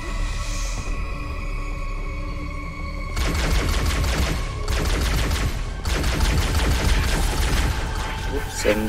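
Halo: Combat Evolved gunfire comes in sustained rapid bursts of automatic fire with short pauses between them, loud and up close over steady game ambience.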